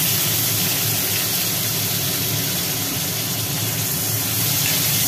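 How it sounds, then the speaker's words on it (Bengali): Bitter gourd fries in hot oil in a kadai, giving a loud, steady, dense hiss that runs unbroken throughout. "তেলে পড়ে গেল উচ্ছে।"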